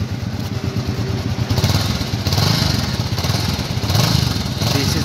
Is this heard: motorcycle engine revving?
yes